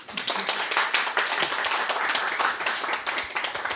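An audience at a Catholic priest's lecture claps together, a brisk, close, fairly loud patter of hands that keeps up for a few seconds.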